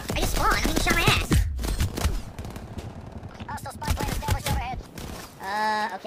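Gunfire in a video game shooter crackles in dense bursts mixed with game effects, while someone talks over much of it and lets out a sigh-like breath.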